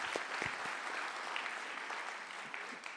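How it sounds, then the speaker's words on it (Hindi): An audience at an Independence Day poetry event breaks into applause, a steady wash of many hands clapping with a few louder claps near the start, heard at a distance without voices. "एक बार तालियां बजा करके माहौल दे दीजिएगा"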